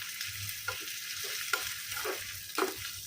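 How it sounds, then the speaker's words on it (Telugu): Asafoetida and two dry red chillies are stirred into hot oil in a pan, giving a steady, close sizzle of frying with a few soft scraping strokes of the spoon and no talking. "తర్వాత ఎల్జీ ఇంగువ కొంచెము, 2 ఎండుమిరపకాయలు వేసుకొని ఇలా కలుపుకోండి"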